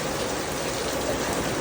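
Heavy rain pours down steadily during a big thunderstorm in Virginia, a dense, even hiss of drops close by with no talking.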